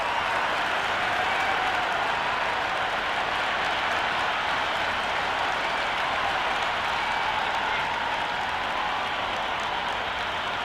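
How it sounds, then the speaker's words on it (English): A stadium crowd in Cricket 24 roars and applauds continuously ahead of a BBL T20 match between Brisbane Heat and Perth Scorchers, a dense, even wash of cheering with no clear breaks. "already the crowd is up and about"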